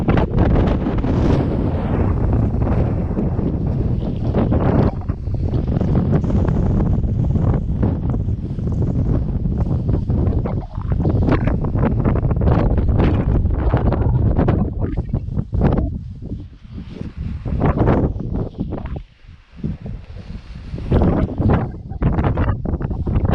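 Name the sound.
strong wind blowing against a tent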